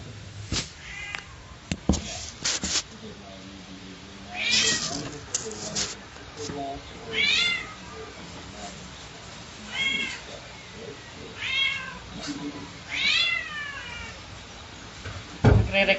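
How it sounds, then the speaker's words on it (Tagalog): A house cat meows repeatedly in a complaining tone, several rising drawn-out calls spaced every second or two, fairly close, amid scattered knocks and handling noises of repacking goods. "Nagre-reklamo yung pusa namin."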